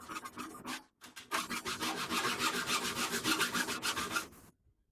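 A file rasps across the teeth of a handsaw blade in quick, even strokes, a short burst, a brief pause, then a long run of rhythmic scraping that stops abruptly.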